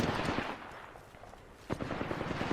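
Rapid gunfire bursts in the video game Apex Legends, a short volley at the start, a lull, then another burst of repeated shots, moderately loud and heard through game audio.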